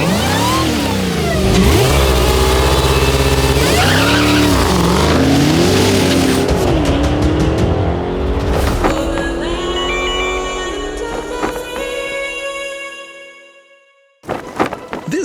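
A Dodge Demon 170 and a Lucid Sapphire launch in a drag race, loud engine roar rising in pitch through the gears, then fading as the cars pull away, leaving a quieter whine and a last burst of noise.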